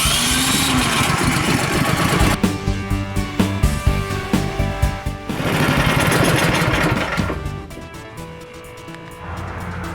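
A snowblower's small gasoline engine runs steadily nearby, warming its oil before an oil change, with a loud rattling drone that wavers in pitch and pulses throughout, with no talking.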